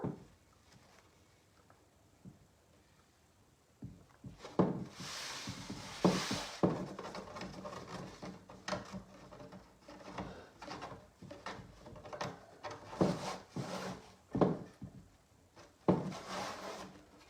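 A paper liner is set into an old wooden drawer, giving soft rustling, rubbing and light knocks that grow busier after a quiet start. The sounds are close and fairly faint.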